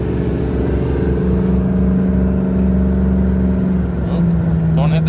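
V8 LS-swapped FJ60 Land Cruiser accelerating, a steady low engine drone rising slightly in pitch, heard from inside the cabin with people talking over it.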